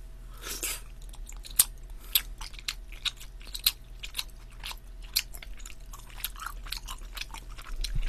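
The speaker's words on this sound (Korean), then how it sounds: "여기 일단은 하얀 떡볶이부터 먹겠습니다" Someone eats white carbonara tteokbokki with spaghetti noodles, bacon and sausage, producing close, repeated bites and soft chewing and crunching with short sharp peaks in a steady rhythm, with no talking.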